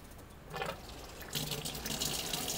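An Enagic K8 alkaline water ionizer dispensing water, a steady close stream pouring and splashing that swells louder partway through and continues in a full, hissing gush with no talking.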